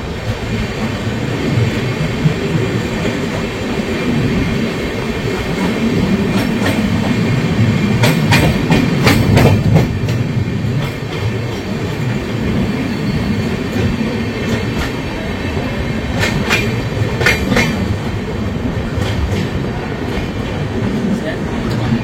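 Puri Shatabdi Express (12277) pulling into Bhadrak station, a loud steady rumble of rolling wagons with clickety-clack and occasional high wheel squeals, close by, with some voices faintly underneath.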